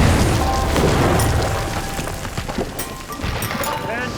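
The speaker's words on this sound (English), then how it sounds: "a shot that had these effects and had these explosions" A film set explosion effect goes off as a loud deep boom that rolls into a crackling, debris-like rumble and gradually settles, with scattered sharp knocks afterward.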